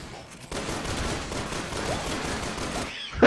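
Rapid gunfire from the co-op shooter Resident Evil 6, a dense continuous burst of shots lasting a few seconds before cutting off abruptly, loud and close with no talk over it.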